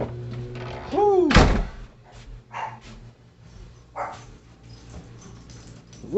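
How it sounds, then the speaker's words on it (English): A pet dog named Hubert barks at an imagined intruder, a loud sharp burst near the start followed by a few softer, scattered barks and household thumps, indoors during a meal prep session. "What are you barking at?"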